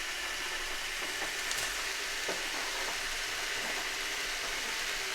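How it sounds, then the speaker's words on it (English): Minced meat frying with onions after being browned with ginger and garlic paste for potato qeema, a steady close hiss and sizzle with occasional soft stirring scrapes, no voices. "I'll fry minced meat with onions now until the onions, they are slightly softer"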